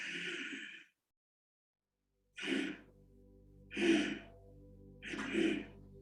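Forced exhalation breathing exercise in a hot yoga class: three sharp, breathy pushes of air out through the nose, evenly spaced after a pause, close and fairly loud, with a faint hum under the later ones.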